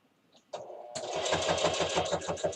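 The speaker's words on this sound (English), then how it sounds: "you're going to want to start at this side and just sew down" A sewing machine runs steadily through a quilted pot holder, its fast rhythmic needle thumps close and loud after a brief pause and a short starting whir.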